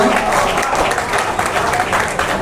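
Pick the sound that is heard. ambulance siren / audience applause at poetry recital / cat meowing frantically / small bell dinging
audience applause at poetry recital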